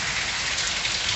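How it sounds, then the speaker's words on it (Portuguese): Dense, steady heavy rain pours down continuously in the sertão of Pernambuco, Brazil, a loud broadband hiss with no voices. "Mas continua chovendo."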